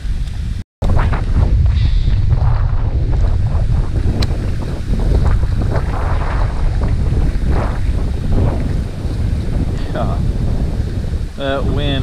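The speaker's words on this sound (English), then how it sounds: "That wind is just not giving up." Heavy wind buffets the microphone outdoors during a morning of bass fishing at a pond, a loud steady roar with gusts, broken once by a brief dropout, while someone talks now and then.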